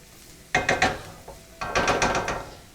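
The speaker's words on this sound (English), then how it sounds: "let's give that a little stir. Our flour is starting to toast a little bit" Flour and mushrooms with thyme stirred in a pan for mushroom stroganoff: two bursts of scraping, clattering spoon-against-pan strokes in quick repeated sweeps over a faint background hiss, close and fairly loud.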